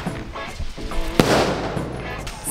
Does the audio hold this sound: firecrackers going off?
yes